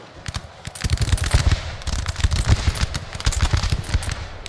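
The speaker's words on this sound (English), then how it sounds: "Our guns are still able to fire nicely into the enemy forces" Rapid crackling volleys of massed gunfire from units firing on enemy forces in the Shogun 2: Total War battle game, dense and continuous with sharp bursts throughout.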